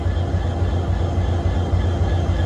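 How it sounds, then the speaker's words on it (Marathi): A low, steady Indian Railways diesel locomotive rumble with a throbbing engine drone, continuous and fairly loud throughout. "डिझेल इंजिन आहे इंडियन रेल्वे"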